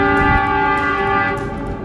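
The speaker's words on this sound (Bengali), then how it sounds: "There is a train coming." A train horn sounds steadily and loud at Kalka railway station as a train approaches on a cold night, the sustained tone holding for the whole stretch over rumbling background noise.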